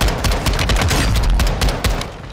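Gunfire from a gun in Call of Duty Modern Warfare 2 rips out as a loud, rapid string of close shots in a fast, uneven rhythm, with no talk over it.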